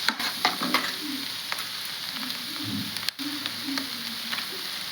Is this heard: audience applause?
no